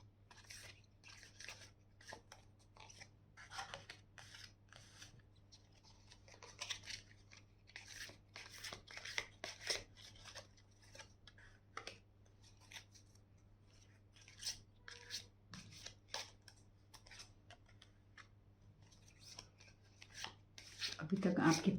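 Tarot cards are shuffled and drawn in a quiet room, with soft repeated flicks and riffles that come in bursts, a faint background hum and a louder rustle near the end.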